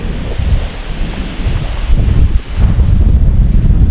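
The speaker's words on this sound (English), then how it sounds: "Good to see the wind's dying down." Wind blows hard and constantly across an open campsite at Blue Mounds State Park in Minnesota in autumn, a loud roaring rush that buffets the microphone with a rumbling low end, with no voices.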